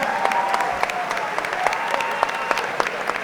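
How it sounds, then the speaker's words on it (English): A crowd applauds both fighters after an amateur MMA bout, dense steady clapping with a few sharper nearby claps standing out, sustained and fairly loud throughout. "let's have a round of applause for both fighters"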